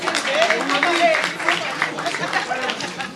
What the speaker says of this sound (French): je vous invite à l'applaudir très très fort